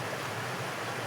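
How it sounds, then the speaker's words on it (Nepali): A mountain stream murmurs far below a high vantage point, a steady, even wash of flowing water with no voices over it. "खोला नि क्या मस्त सुसाउँछ यार"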